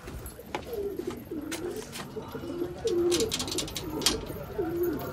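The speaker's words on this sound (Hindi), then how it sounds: "हटो जान, हटो, इन कबूतरों को भी अंदर करना है, हटो।" Pigeons coo repeatedly on a rooftop, their soft, throaty calls rising and falling in a steady rhythm against a faint outdoor hiss, with occasional wing flutters and light scuffs nearby.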